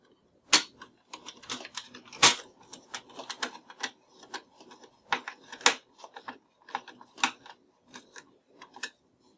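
Irregular clicks and ratchety ticks, close and crisp, come in uneven bursts as long black screws are driven into a Sega Genesis Model 2 console near the cartridge slot.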